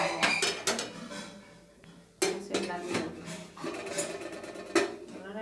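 Metal clanks and clinks of a lid being set onto a cooking pot, a few sharp close knocks separated by a brief quiet pause, with faint kitchen handling between.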